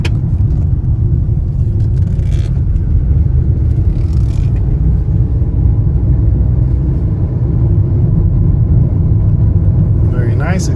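A 2016 Kia Forte LX driving and accelerating, heard as a loud, steady low rumble of engine and road noise from inside the cabin throughout.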